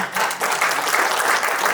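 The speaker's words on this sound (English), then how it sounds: "So big hand of applaud for Ashish." Applause from an audience at a community health awareness event, a short, lively burst of many hands clapping at close range that stays even for under two seconds.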